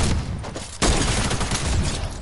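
A heavy sniper rifle shot in Fortnite lands as one sharp, loud blast. A dense, crackling wash of other game noise runs before and after it.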